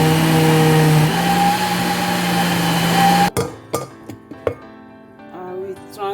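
A blender grinds cooked beans together with onion and habanero pepper, a loud steady motor whir with a grinding hum that cuts off abruptly partway through, followed by scattered knocks and clatter of the jar.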